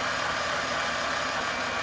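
A rebuilt Toyota 1FZ-FE inline-six, freshly overhauled, runs steadily at a raised idle with a dense, even mechanical hum and exhaust rush, close and constant for a couple of seconds with no voices.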